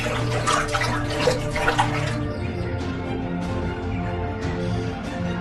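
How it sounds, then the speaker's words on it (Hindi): Water is poured for someone to drink in an animated Hindi fairy-tale story. The pour is a close, continuous splashing gush that is busiest at first and then settles into a steady, even flow. "रेवती को एक पेड़ की छांव में लेकर जाता है और उसे पानी पिलाता है।"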